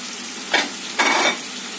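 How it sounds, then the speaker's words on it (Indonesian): Onions frying in a pan for a beef rice bowl, two bursts of loud sizzling as they hit the hot oil and get stirred, over a steady background hiss. "Berikutnya kita masukin bawang bombaynya"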